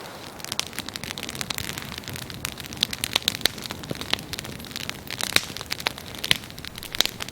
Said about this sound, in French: Tandis que le feu crépite